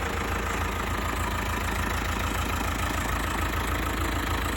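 A David Brown 1210 tractor engine idles steadily and loudly up close, a constant rough diesel rumble with a fast, even knock and no voices.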